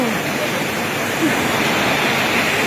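Steady rain falls outdoors, a continuous even hiss of broadband patter with no breaks, fairly loud and close.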